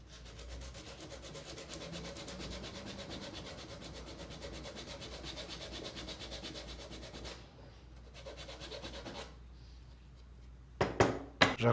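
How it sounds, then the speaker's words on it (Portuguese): Wood sanded by hand with coarse sandpaper on a rustic diamond carving, a steady rhythmic scraping that pauses briefly near the end before a few sharp knocks. "Agora a gente vai fazer nos 4 lados o mesmo procedimento com a lixa grossa"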